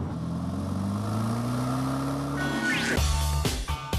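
Audi 4.2-litre V8 twin-turbo engine, 444 bhp, pulling hard under acceleration, its rising engine note loud and close, with a sharp gear change and tyre or wind noise near the end.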